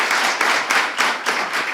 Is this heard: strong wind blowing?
no